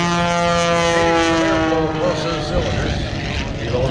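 Aerobatic propeller airplane at the Vero Beach air show flown near a stall, its engine droning loudly with a strong steady tone that shifts in pitch as power changes, broad roar throughout.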